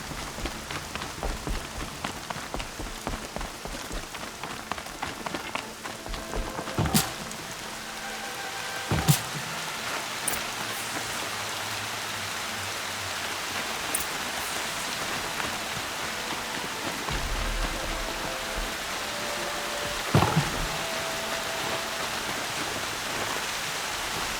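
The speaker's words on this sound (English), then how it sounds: "Rain." Steady rain pattering on a surface in the video game Horizon Zero Dawn, a continuous hiss with scattered louder drops and occasional sharp ticks, no voices.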